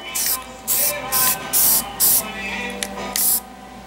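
Short bursts of primer spray hit a door patch up close, about six or seven hisses in an uneven rhythm, each lasting a fraction of a second, with brief pauses between.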